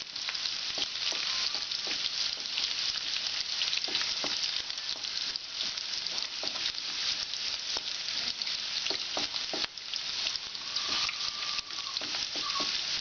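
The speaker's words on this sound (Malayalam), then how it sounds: "കുറച്ച് കറിവേപ്പില, ഇതൊന്ന് മൂത്ത് വരുന്നവരെ നമുക്ക് ഇളക്കി കൊടുക്കാം" Ginger, curry leaves and onions frying in oil for lime pickle, a constant bright hiss of sizzling with frequent light scraping and stirring taps, close and steady, no voices.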